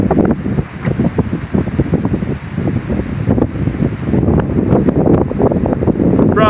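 Strong, sustained wind gusts roar across Allatoona Lake during a camping trip, buffeting the microphone with heavy, continuous rumbling noise that surges and dips without pause.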